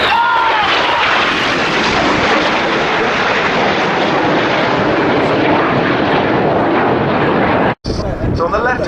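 Four Red Arrows RAF jets of the Jippo section flying the Jippo Pass at an air show, a loud, continuous roaring rush of jet engines that fills the whole stretch and cuts off briefly near the end.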